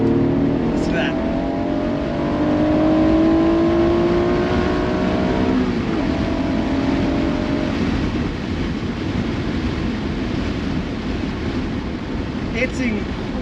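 A 1995 Acura NSX-T with a manual gearbox revs its engine toward 8,000 RPM, its pitch climbing steadily as VTEC engages, then fading into a steady background rumble with faint wind noise.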